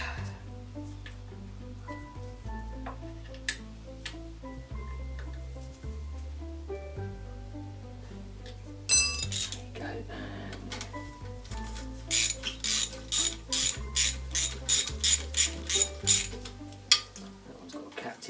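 Ratchet tightening the centre support bracket bolt on a Honda Deauville motorcycle, a quick run of close, crisp clicking strokes in the second half, following a quieter stretch with a low hum and scattered faint knocks.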